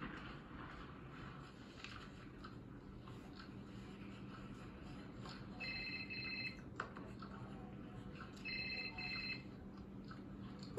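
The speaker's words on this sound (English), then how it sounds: "Whose phone is that?" A phone rings in a classroom, two short electronic ringtone bursts sounding faintly a few seconds apart over low room noise and murmur.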